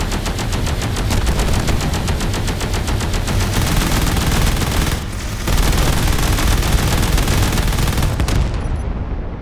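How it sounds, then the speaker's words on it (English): Rapid automatic weapon fire rattles almost nonstop in a Space Engineers battle, loud and dense, with a short pause midway before the bursts resume and cut off near the end. "Oh, it was a nice explosion."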